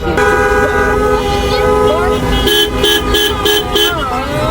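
Several car horns honk at once in a traffic jam, some long steady blasts and some short repeated toots, loud and close amid idling engines.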